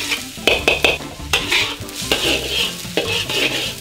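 Onions frying in a pan for fried rice sizzle up close as a utensil stirs and scrapes in quick, uneven strokes, with clatters against the metal and no speech.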